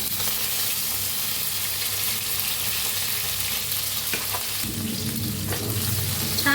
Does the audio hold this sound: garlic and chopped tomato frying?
yes